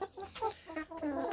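Egg-laying hens in a wire Alibaba cage cluck in a quick run of short, close, moderately loud calls, several birds overlapping.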